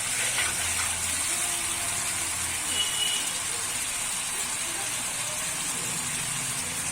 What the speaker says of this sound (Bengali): কষিয়ে তো লাউটা ঢেলে দেবো।